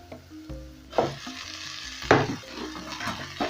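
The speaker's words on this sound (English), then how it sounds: "I'll go in with my greens." Greens dropped into a hot pan for creamy greens, a sudden loud sizzle with repeated stirring scrapes and clacks of a spoon against the pan, close and continuous.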